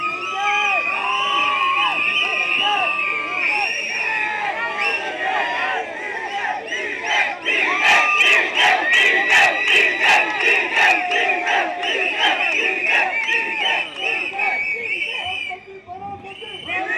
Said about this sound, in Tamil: அண்ணன் ஆதவர்ஜுனா அவர்களை ஒரு சிறப்புரை ஆற்ற ஒரு பெரிய கரகோஷத்துடன் அவர்களை அழைக்கிறேன்.